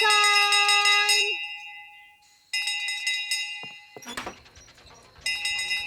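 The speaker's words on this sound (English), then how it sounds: "Nanny rings the bell every night" Bell ringing at dinnertime in a children's cartoon set in a fairy kingdom: bright, sustained metallic ringing tones in several bursts with brief gaps, a short clattering passage in the middle, and no speech.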